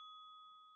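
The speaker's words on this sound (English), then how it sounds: "Hit the notification bell." A single clean notification-style bell ding rings with a steady sustained tone for under a second and then cuts off abruptly, alone and fairly faint.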